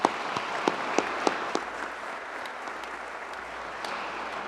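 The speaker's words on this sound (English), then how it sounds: "Could we have a round of applause for Bob?" A round of applause from the audience at a presidential address, with a few sharp individual claps at the start before it settles into steady, moderately distant clapping.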